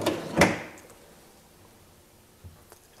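A self-closing drawer with new pulls on a handmade wooden terrarium stand shuts with one soft, muffled thump, followed by near silence and a faint small tap a couple of seconds later.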